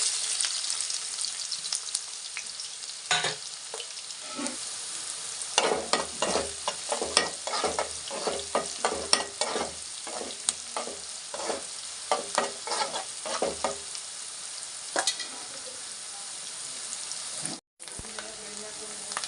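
Onions frying in a generous amount of oil for a chicken fry, giving a constant bright sizzle broken by stirring scrapes and spoon knocks against the pan, close and continuous.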